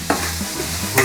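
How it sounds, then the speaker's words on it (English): Mushrooms tossed with salt and stirred in a frying pan, a steady close sizzle with two brief scraping bursts of the stirring, no voices. "A little bit of salt, give it a good mix."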